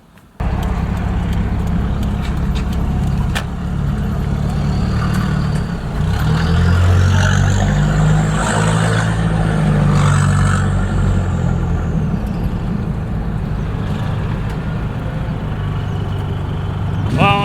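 Toyota Supra with a 7M engine driving in toward the Ruapuna raceway, a steady loud engine drone with a rising and falling note midway, close and alone with no talk.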